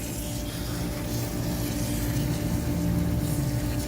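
Wheel cleaner being sprayed from an IK pump foamer onto car wheels, a steady continuous hiss of foam spray with a low rumble underneath, close and unbroken for the whole stretch, no talking.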